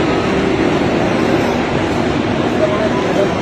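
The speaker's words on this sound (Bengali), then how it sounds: "ট্রেন ঢুকলো ফাইনালি" A train pulls into a crowded station platform on a hot day, its steady, loud rumble blending with a constant murmur of waiting passengers' voices.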